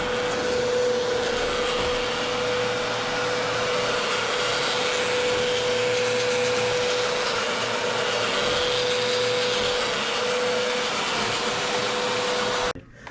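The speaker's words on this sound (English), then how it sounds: "with the cord on the bottom and you're vacuuming along like this" A Bissell PowerLifter Pet upright vacuum cleaner runs steadily and loudly with a constant motor whine and airflow roar, cutting off abruptly at the very end.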